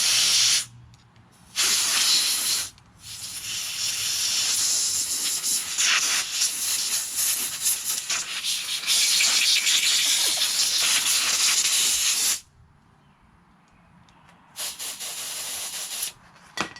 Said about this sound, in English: I'm going to blow it out again with some compressed air